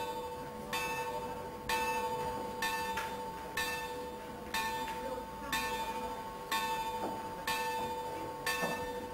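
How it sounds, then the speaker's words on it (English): A chapel bell is rung by the prior, with evenly spaced clangs about once a second, each struck tone ringing on and decaying before the next stroke, steady and fairly close. "And here's the prior, elected by the brethren, who's ringing the bell."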